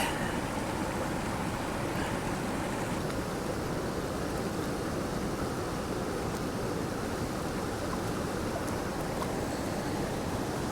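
Water is splashed over gravel in a gold pan, giving a steady, broad hissing wash that runs unbroken and close throughout.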